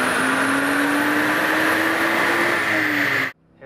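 A 1994 Toyota Supra with a single turbo roars at full load on a dyno, a loud steady drone with rising pitch that holds for over three seconds before cutting off abruptly.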